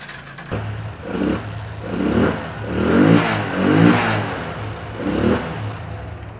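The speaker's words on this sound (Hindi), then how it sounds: "तो हम अभी इसके सेल्फ स्टार्ट करते हैं इसको।" A motorcycle is self-started and its engine runs unevenly, rising and falling in several surges over a low steady hum, close by with no talking.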